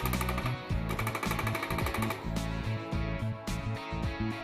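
A Multi4 portable dot peen marking machine marks a part with its stylus, giving a loud, rapid mechanical hammering in regular bursts with short pauses between passes and a steady motor whir underneath.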